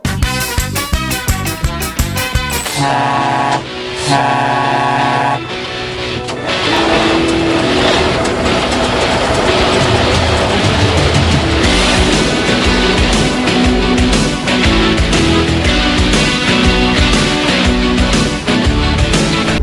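A tractor's 15-litre six-cylinder engine rated at 620 hp runs loud and close, opening with pulsing bursts before settling into a heavy, sustained roar with revving surges.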